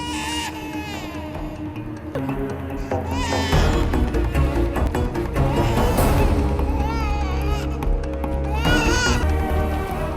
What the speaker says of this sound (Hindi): वो बस वहाँ एक बच्चा रो रहा था।